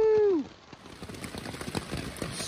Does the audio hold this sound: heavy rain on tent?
yes